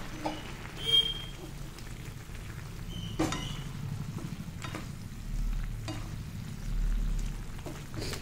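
A spoon stirs cooked rice mixed with orange food colour in a pan for soybean biryani, making a soft, gentle sizzle with scraping and occasional clinks, fairly quiet throughout.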